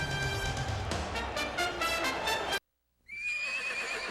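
A horse neighs loudly in a long, quavering whinny from a football broadcast segment, followed by a brief silence and then a shorter, fainter whinny.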